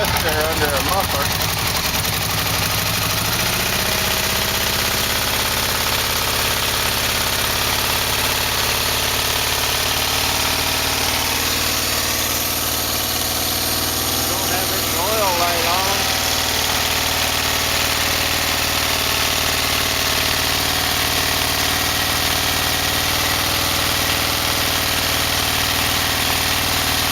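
A Yamaha VMAX motorcycle with a three-part exhaust runs at idle, a steady loud mechanical drone close to the engine with faint clunking from the motor, holding an even pitch throughout.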